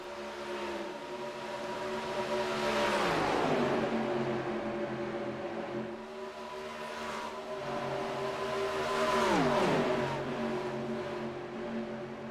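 Race cars in a Pelican's Snoballs Superspeedway Series event roar past in two distinct passes, engines rising to a peak and dropping in pitch as they go by, with a constant pack drone underneath.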